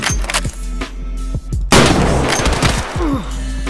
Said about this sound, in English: Was that you? That sniping?